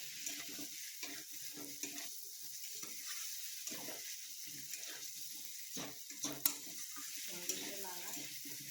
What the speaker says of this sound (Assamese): দি আকৌ অলপ সময় এনেকৈ লাৰিম, মছলাখিনি যাতে চবতে লাগে